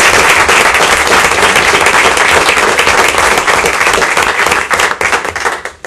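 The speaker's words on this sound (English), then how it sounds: "he deserves a round of applause" A room at a county commissioners meeting breaks into loud, dense applause from many hands, holding steady and then thinning into scattered claps as it fades out at the end.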